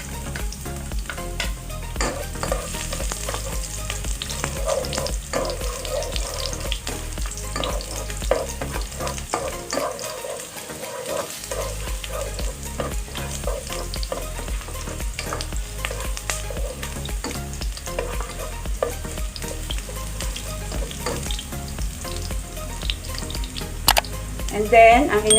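Ginger and garlic sautéing in hot oil in a casserole, a steady sizzle with occasional stirring scrapes, continuous and moderately close, with someone talking at times.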